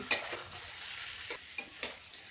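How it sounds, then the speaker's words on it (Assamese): Chicken and ground spices, cumin, coriander and chicken masala, stirred in a hot pan, giving a few scraping strokes over a soft sizzle, close and fairly quiet. "সেইটো দি এতিয়া মই সুন্দৰকৈ লৰাই থাকিম"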